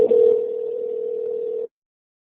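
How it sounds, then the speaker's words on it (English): A telephone dial tone sounds while a call is being placed, a steady loud single-pitch hum lasting under two seconds before cutting off abruptly into silence. "I'm trying to call you right now."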